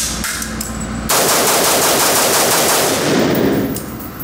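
Rapid continuous fire from an AR-15 rifle, a loud dense burst lasting about three seconds that starts abruptly after a quieter moment and then fades.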